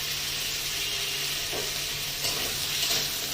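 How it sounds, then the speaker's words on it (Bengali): Crabs frying in ghee with salt and turmeric, a soft steady sizzle with faint stirring scrapes, close and alone. "যে কাঁকড়াগুলোকে নিয়েছি এইগুলোকে এবার আমি একটু এই ঘির মধ্যেই ভেজে নেব"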